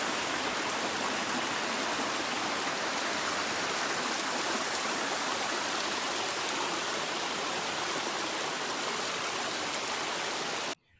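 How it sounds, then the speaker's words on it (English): Water flows and churns steadily in a garden river where the current pushes over an edge and digs out a pool, a close, dense rushing wash held at an even level until it cuts off abruptly at the end. "when the water's flowing backwards, so the water comes over, digs this space out, and it's got this churning effect"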